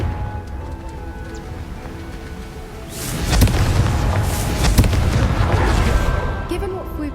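Fire spell explosions in Hogwarts Legacy, a few booming bursts from about three seconds in, landing over a steady background game score with no talking.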